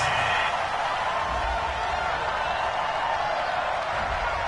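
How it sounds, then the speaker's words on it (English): A stadium crowd in a PS4 American football video game roars with a steady, unbroken wash of noise after a pass interference call, loud and continuous with no individual voices standing out. "Well, the crowd doesn't like that."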